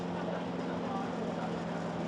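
A small boat's outboard motor runs steadily with a low droning hum and faint background voices, continuous and even.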